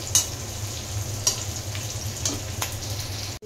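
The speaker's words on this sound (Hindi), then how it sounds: "थोड़ी सी प्याज हल्की सी मुलायम हो जाए जब तक इसको भूनेंगे" Chopped onions fry in a pan as they soften, a steady close sizzle with a few sharp stirring clicks scattered over it and no voices.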